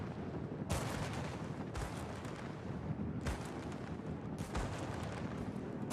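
Anti-aircraft flak fire rumbles in the naval battle game World of Warships. It comes as a dense, continuous roar broken by four heavy bursts at irregular intervals, loud and close, with no voices.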